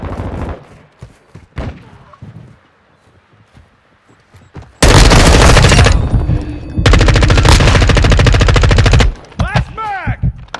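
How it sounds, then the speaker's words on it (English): Modern Warfare 2 multiplayer firefight: scattered distant shots and thumps, then two long loud bursts of sustained automatic gunfire up close, trailing into a few final pops. "Taking heavy fire!"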